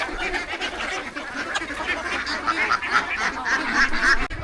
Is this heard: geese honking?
yes